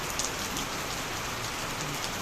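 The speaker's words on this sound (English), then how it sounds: "Raining right there in Masaka." Steady, dense rain falling in Masaka, a continuous loud hiss of drops hitting surfaces with no pauses, close and alone without voices.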